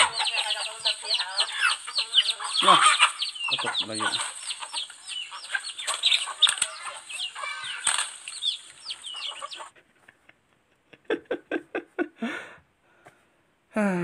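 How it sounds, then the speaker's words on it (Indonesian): Chickens fight with a flurry of flapping wings, scuffling and agitated clucks, loud and busy for about ten seconds, then a few sharp isolated clucks; a person speaks briefly over it. "Ayam bersabung."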